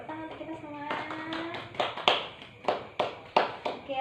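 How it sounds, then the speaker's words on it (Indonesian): Scattered hand claps from a classroom of students, starting under a few lingering voices and building into several sharp, uneven claps close by toward the end. "Oke, tepuk tangan untuk kita semua."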